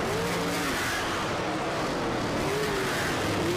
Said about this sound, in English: Now Jake goes low, trying to get around Justin Grant as they cross the start-finish line.